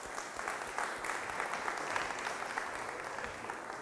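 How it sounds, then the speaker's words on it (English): Dense, even audience applause fills an HR and hiring trends event hall, a continuous wash of many hands clapping at steady moderate volume without pause. "Big hand of applause."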